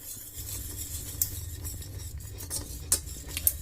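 A utensil stirs rice cream for a baby as it cooks on the stove with a little vanilla, soft scraping and patter against the pot with a few sharper clinks, close and quiet under a low hum.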